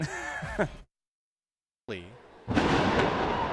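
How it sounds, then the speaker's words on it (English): A huge crash of thunder breaks out during a ball game: a sudden loud, broad rumbling roar bursts in and holds steady, following a sigh-like breath and a brief silence. "A huge crash of lightning as Contreras kicked."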